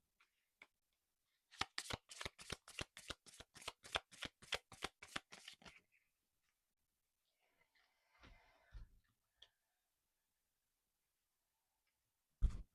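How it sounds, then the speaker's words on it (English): An affirmation card deck shuffled by hand, a rapid run of about a dozen crisp riffling snaps close up, followed by quieter rustling and a final soft tap, with no talking. "Let's get our final card from the affirmation deck."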